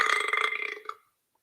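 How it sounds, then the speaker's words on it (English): A long, loud, gurgling belch played back from a recording, rasping steadily for about a second before cutting off into silence. "Hopefully you heard the belch, and I don't have to play it again"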